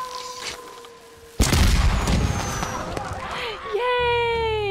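Fireworks going off in the video game Ghost of Tsushima, a sudden loud burst followed by crackling and rumbling with whistling tones, layered under game music and effects.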